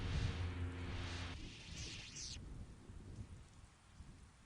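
Steady rain with rumbling thunder in the game Star Wars Galaxies, a low rolling rumble over constant rainfall, fairly faint throughout.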